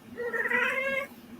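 A pet cat lets out a single drawn-out meow, close and clear against a quiet room, lasting about a second.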